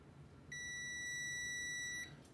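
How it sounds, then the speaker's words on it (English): A multimeter's continuity test gives one steady electronic beep lasting about a second and a half, clear and close over a quiet room. "So I should get a beep here."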